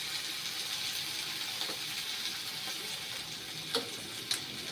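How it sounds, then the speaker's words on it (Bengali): Chicken reheated and fried again in a pan gives a soft, continuous sizzle with a couple of brief stirring clicks near the end, close by and without speech. "চিকেনটাকে আরেকটু ইয়ে করে নিচ্ছি, তখন ঠান্ডা হয়ে গেছিল, এখন আরেকটু ভেজে নিলাম।"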